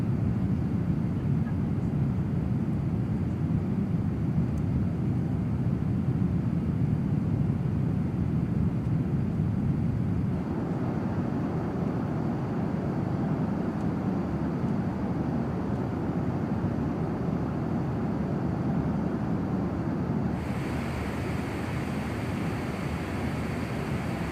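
Jet engine roar from a PMDG 777-200LR taking off in Microsoft Flight Simulator 2024, departing Dublin: a steady, loud, broadband rumble held throughout, with the tone shifting slightly partway as thrust and airflow change.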